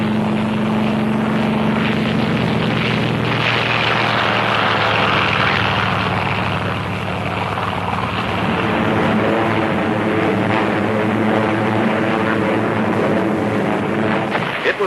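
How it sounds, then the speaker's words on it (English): Warplanes roar during a 1940s naval aerial assault on Kyushu by Task Force 58: a dense, loud, continuous drone of piston aircraft engines and propellers, steady throughout with slight swells, heard on an old newsreel soundtrack. "Task Force 58 stepped up its 2-week-old aerial assault on Kyushu"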